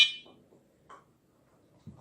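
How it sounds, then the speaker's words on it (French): A fishing bite alarm receiver gives a few short electronic beeps, one at the start and another a moment later, in a quiet room, followed by a soft low knock. "Donc Igor un bip, ça sonnera là-bas."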